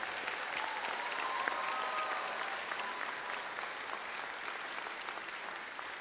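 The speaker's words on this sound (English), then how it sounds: "Please give these students a round of applause." Applause for graduating students at a high school graduation ceremony, a continuous, moderately distant wash of many people clapping with a few faint whistles, steady throughout.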